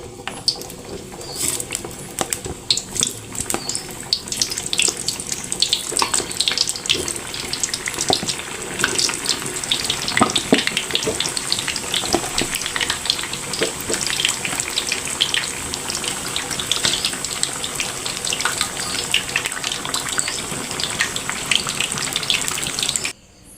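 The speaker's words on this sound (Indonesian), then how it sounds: "Sekarang kita goreng terong dulu." Eggplant frying in hot oil, a dense continuous crackling sizzle with a watery, rushing texture that holds steady and close throughout, ending abruptly.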